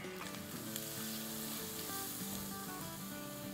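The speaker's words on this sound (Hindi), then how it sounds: "मसालों को 2 मिनट तक भूनेंगे" Simple ground spices sizzle steadily in hot oil for a fish curry, a continuous, even frying hiss with no voices. Faint music plays underneath.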